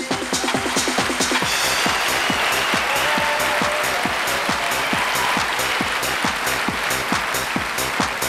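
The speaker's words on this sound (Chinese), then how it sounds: "掌声送给汤小丹" Steady audience applause at the 2006 Miss Universe China pageant swimsuit segment, a dense rhythmic clapping from a large crowd that runs unbroken throughout, with music faintly underneath.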